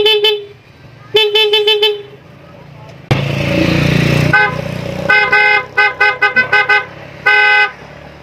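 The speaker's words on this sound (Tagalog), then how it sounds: "Test na din natin yung busina at yung passing niya" Several short horn toots from a Honda Click scooter, some in quick bursts of three or four, loud and close, with a brief stretch of engine revving in between.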